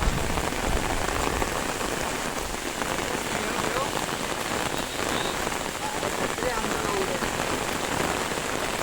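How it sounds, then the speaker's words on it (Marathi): Heavy monsoon rain in the Konkan region pours steadily on surfaces, a dense continuous hiss with pattering drops throughout, loud and close, with no voices. "आता जोरदार पाऊस आहे"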